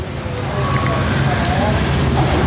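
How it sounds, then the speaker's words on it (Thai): Heavy rain pours in a steady, loud hiss that never lets up, with faint low sounds buried underneath. "ตอนนี้ฝนตกปล่อย ๆ นะทุกคน"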